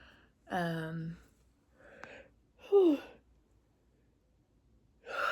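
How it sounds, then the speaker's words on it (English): Someone yawns audibly nearby, a drawn-out voiced breath with a falling tone, followed by another breathy yawn-like exhale and soft sighs. "Again, yawns are a good sign."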